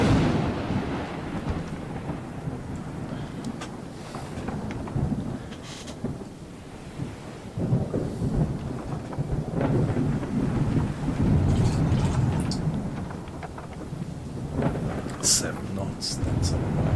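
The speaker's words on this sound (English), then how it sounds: "is a terrible storm, actually." A thunderstorm with heavy rain at sea, from the historic sailing video game Sail The Seas, rolls on steadily with a dense wash of rain and deep rumbling thunder, loud and continuous throughout.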